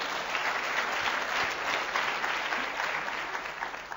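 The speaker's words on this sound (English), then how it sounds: "You can give her a round of applause for that." Steady applause from an audience at a coaching talk in Dubai, dense and even for about four seconds, gradually thinning toward the end.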